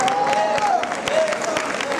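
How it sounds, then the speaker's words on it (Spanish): An audience at a Day of the Announcer show applauds an impersonator named Juan Oscar, brisk clapping and some cheers under a sustained musical tone, briefly overlapping a voice. "¡Fuerte el aplauso para Juan Oscar!"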